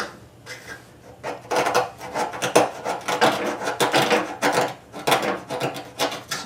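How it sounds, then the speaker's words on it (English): Close, irregular scraping and rasping strokes as a scraper pops old paint off a Ford F100 tailgate, a rapid series of rough bursts with no talking. "That's just the paint popping off."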